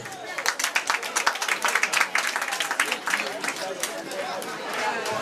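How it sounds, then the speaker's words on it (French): An audience at a parents' celebration claps in a sharp, quick, uneven rhythm, the individual claps close and distinct, while murmured chatter runs underneath throughout. "je voudrais qu'on puisse l'applaudir s'il vous plaît."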